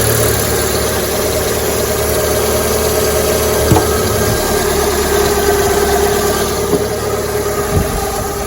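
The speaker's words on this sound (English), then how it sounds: "So obviously the engine's cold at the moment, so it's running fine." A cold Fiat 500 engine idles steadily with a constant mid-pitched hum and a faint rattle, close and loud, with a few soft knocks near the end and no talking.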